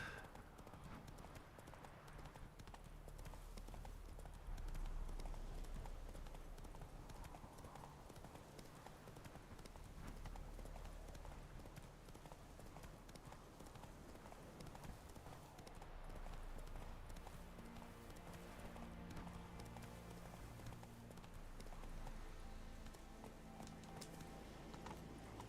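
Horse hooves gallop in a steady rapid clip-clop rhythm while riding across The Witcher 3: Wild Hunt, with a game music bed underneath, close and continuous throughout.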